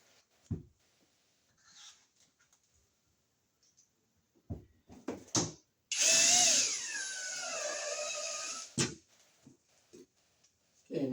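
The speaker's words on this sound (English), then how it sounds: "I'll get a couple more screws in here for a little extra security here." A power drill drives screws while an extra GFCI-protected outlet is being installed: scattered knocks and handling noises lead up to one loud, sustained whirring burst near the middle, then more clatter.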